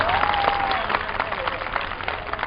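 A crowd applauds at a Hindi kavi sammelan poetry gathering: dense, continuous clapping from many hands, moderately loud, with a thin whistle-like tone briefly above it early on.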